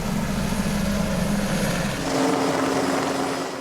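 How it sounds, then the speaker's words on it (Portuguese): Helicopters fly over Vitória, their engine and rotor drone rumbling steadily and fairly loudly, the low throb shifting partway through as the aircraft passes. "o morador de Vitória ouviu o som dos helicópteros dia e noite"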